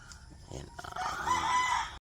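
Chickens in a backyard coop on a rural property, a rooster crowing loudly and close after a few short clucks, the crow rising and holding briefly before cutting off.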